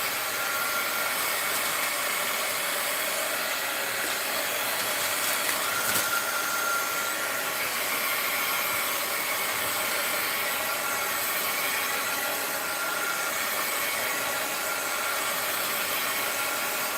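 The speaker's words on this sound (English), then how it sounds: "This with the heat gun a little so I can flip it over." A heat gun blows hot air in a steady, continuous whoosh that stays loud and even throughout, with no talking over it.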